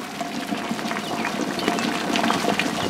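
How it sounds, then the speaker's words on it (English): Beer wort boils in an electric brew kettle under a test controller, giving a steady bubbling, rushing churn close by, with no voices. "but we've got a little bit of boil going on."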